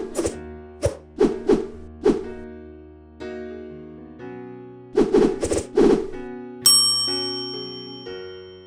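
Bright bell dings ring out one after another, several quick struck tones with ringing decay, then a higher, longer chime near the end.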